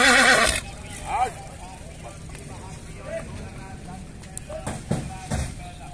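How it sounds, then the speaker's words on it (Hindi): A horse at a livestock market neighs sharply right at the start, followed by faint hoof shuffles and scattered outdoor sounds while people talk nearby. "घोड़ा जी माशाल्लाह खूबसूरत घोड़ा जी"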